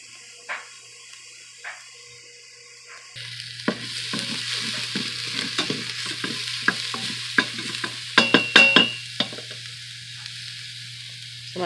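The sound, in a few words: sautéing in grapeseed oil in an Instant Pot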